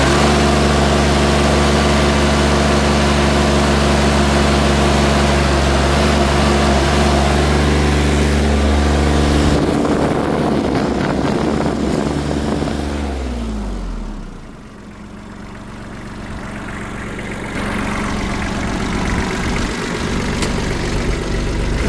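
A Kubota KL345 tractor's 1.8-litre two-cylinder D1803 diesel engine runs close by with a steady, loud idle, then its pitch shifts and it dips briefly before settling back to a continuous rumble.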